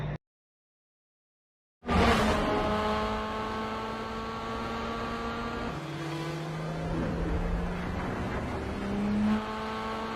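Street race cars from the 2001 film The Fast and the Furious roar off after a brief silence, several engines revving and droning loudly together, their pitches rising and shifting as they accelerate.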